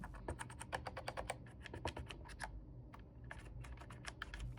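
Rapid clicking keystrokes on a mechanical keyboard, close and fairly quiet, with a brief pause before the typing resumes.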